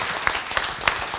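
Audience applause at a Parti Québécois political gathering in Quebec for a newly elected member, a dense, steady round of many hands clapping for a brief moment with no talk over it.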